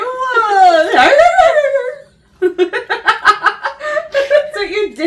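A person imitates a dog, with a long whining, howl-like vocal for about two seconds, then a short pause and a run of rapid, punchy bark-like yelps, close and loud.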